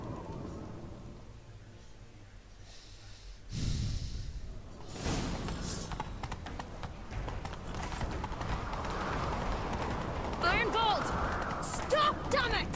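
A horse gallops in The Witcher 3, rapid hoofbeats building and running on with snorts and a brief neigh near the end, while voices talk over the action.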